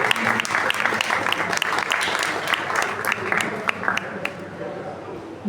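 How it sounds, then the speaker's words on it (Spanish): An audience at a poetry reading applauds the performers with loud, sustained clapping. Individual claps stand out near the mic, and a voice murmurs underneath as the applause thins toward the end. "Fuerte el aplauso para ellos."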